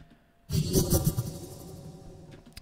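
Synth bass lead preset TF Banana Time, a big bass lead: after a quiet half second it enters as a dense, buzzing sustained tone with a wobbling low end, moderately loud and alone.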